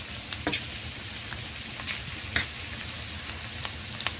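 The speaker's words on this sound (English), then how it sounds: "Saute your garlic for 30 seconds and ensuring that it doesn't burn." Garlic sautés in butter in a pan for a seafood boil sauce, giving a dense, steady sizzle with small crackles and occasional pops, close and continuous.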